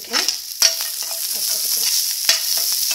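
Ingredients for coconut rice fry in sesame oil in a pan, producing a continuous bright sizzle with several scraping stirs of a spoon, loud and close with no one talking.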